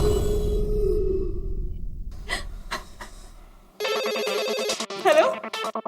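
A telephone rings with a bright, repeating electronic warble, starting abruptly partway through and continuing to the end, after a stretch of voices and a few sharp clicks in a Hindi TV comedy scene.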